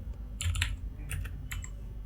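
Keys clack on a computer keyboard while code for a React intersection observer component is typed, coming in a few quick clustered bursts of clicks over a low steady hum.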